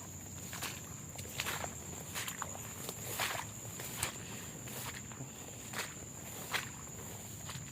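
Soft, regular footsteps walk back along a line of fifty set fishing rods outdoors. The steps are faint and steady over a constant high chirr of insects, with no talking.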